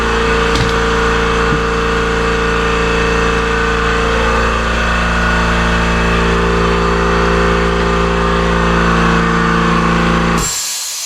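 Kobalt Quiet Tech 29-gallon air compressor running steadily at close range, a constant loud motor drone with a low hum that stays even throughout before cutting off abruptly near the end.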